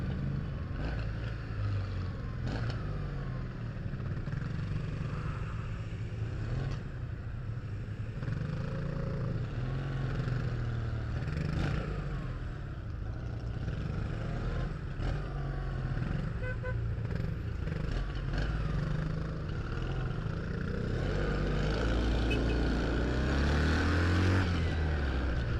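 Steady street traffic of cars, taxis and transit vans rumbles past on a market day, a continuous low engine drone at moderate distance with a few passing swells and a louder vehicle nearing toward the end.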